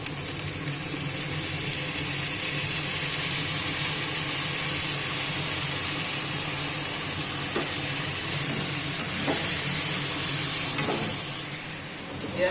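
Pork frying in a pan with capsicum, sour bamboo shoots and a splash of soy sauce, giving a steady close sizzle with occasional stirring scrapes and clicks, no talking.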